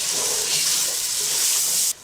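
Garlic dropped into a hot frying pan for Uruguayan buseca, a loud, steady close-up sizzle and hiss that holds evenly for two seconds before cutting off.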